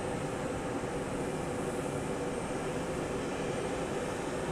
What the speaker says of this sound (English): It's an Embraer 175.